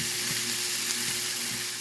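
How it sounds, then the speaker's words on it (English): Sausage and onions frying together in a pan, a loud, steady crackling sizzle running continuously and close-up, with no talking. "we are just going to cook this until the sausage is done and the onions are tender"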